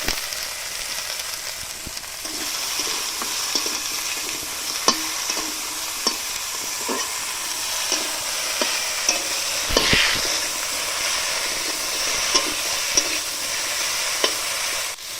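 Fish curry cooking over a village clay stove with turmeric and salt and spices ground on a grinding stone, giving a steady sizzle with repeated scraping and clinking stirs throughout, close and fairly loud.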